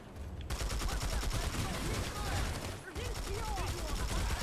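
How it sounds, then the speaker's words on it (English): Shotgun fire in Planetside 2 amid a dense, rapid burst of gunfire that runs almost continuously with a short break partway through, with voices over it. "I shoot him with a shotgun?"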